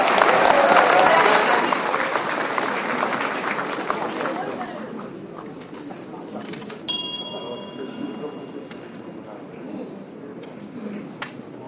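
Audience applause at a Democratic United Party rally in Gwangju, loud and dense at the start, then gradually thinning into scattered clapping and crowd murmur, with a few brief bright tones near the end.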